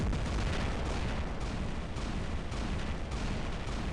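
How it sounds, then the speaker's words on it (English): Continuous heavy weapon fire from robots in the War Robots game, a dense roaring barrage of booms and blasts aimed at a Lancelot, loud and unbroken with no voices. "I'm actually shooting on the right side of his shield"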